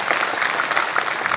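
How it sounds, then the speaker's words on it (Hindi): Crowd at an award event clapping steadily for a performer, dense sustained applause filling the hall with no voices over it. "एक बार जोरदार ताली चाहिए रवि जी के लिए।"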